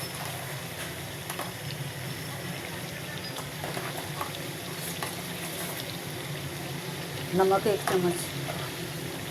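Red chilli powder, turmeric and salt roast in a hot pan for fried chicken, giving a continuous soft sizzle and crackle beneath a speaking voice, with a few stirring clatters.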